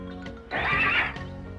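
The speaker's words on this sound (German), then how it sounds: "Bucks Pferd drängt sich immer vor, nicht zu fassen." A horse whinnies loudly nearby, one shrill, quavering neigh lasting around half a second, with soft rustling before and after.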